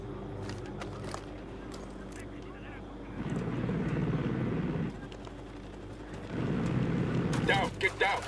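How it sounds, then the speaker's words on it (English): A helicopter in the shooter game Ghost Recon Wildlands thrums in two swelling passes amid game sound effects and sharp clicks, loud and close during each pass. "I can deal with choppers, I just need to get to the ammo crate."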